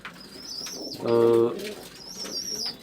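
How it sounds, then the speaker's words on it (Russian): Pigeons, a Turkish takla hen and a local rock dove cock, with a burst of wing flapping followed by a low rolling coo, close and loud, amid faint chirps and background noise. "Самка такла, самец наш местный сизый голубь."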